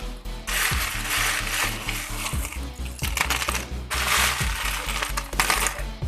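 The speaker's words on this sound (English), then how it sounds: "I just love the clanking sound of Legos." Plastic Lego bricks for a Carnotaurus dinosaur set clatter and rattle steadily at close range, with rapid clicking bursts over a constant low hum throughout, no talking.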